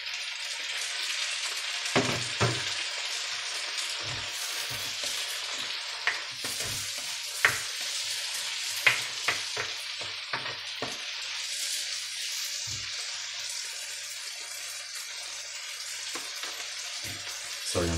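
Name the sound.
tomatoes frying with onions in a pan for menemen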